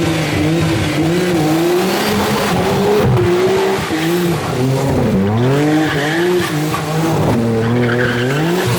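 A Nissan Skyline drifting with tires squealing and skidding over a revving engine whose pitch sweeps up and down, loud and continuous with no voices.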